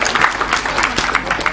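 Applause from an audience for Bu Sumiati, an 80-year-old woman, a dense steady patter of clapping throughout, fairly loud and close, with no clear talk over it.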